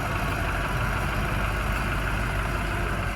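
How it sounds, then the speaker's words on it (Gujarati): A crane's engine runs steadily while lifting a fishing boat from the water by sling at Porbandar harbour, a constant mid-low droning hum at moderate distance with no voices. "ફાઇનલી ક્રેંગીએ આપણી બોટને ઉપાડી લીધી સલિંગ દ્વારા"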